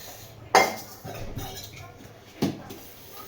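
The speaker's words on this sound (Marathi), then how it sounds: "पटपट घासूया आणि मोकळी होऊया काम" Dishes, including children's plates, clatter while being washed by hand in a home kitchen: two sharp, close crashes of metal and crockery with lighter clinks and scrapes in between.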